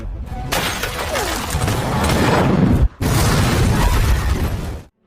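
A grenade explodes inside a car, a loud, sustained blast of explosive noise and shattering debris, roaring for several seconds with a brief cut, then fading out.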